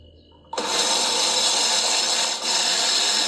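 A mini blender whirs loudly and steadily, grinding freshwater laver with salt into a seasoning; the motor starts abruptly, runs continuously, and dips briefly before carrying on.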